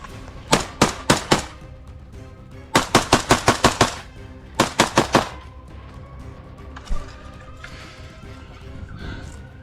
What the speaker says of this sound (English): They're starting the first clash by throwing grenades and tear gas canisters. Heavy fire will begin shortly.